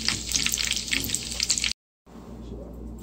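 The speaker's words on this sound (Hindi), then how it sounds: "तो ये अब फ्राई हो रहे हैं। मैं शेलो फ्राई कर रही हूँ" Potato cutlets shallow frying in a pan of oil give a steady, close sizzle that cuts off abruptly partway through, then returns as a quieter, softer sizzle.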